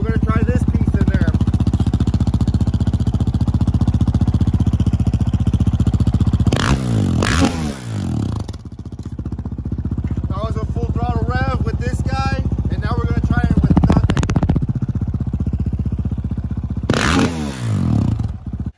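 A 2020 Honda CRF450X with a Yoshimura RS4 exhaust idles loudly and close, with sharp throttle revs rising and falling several times, plus clattering handling noises and a voice speaking over the engine in the middle.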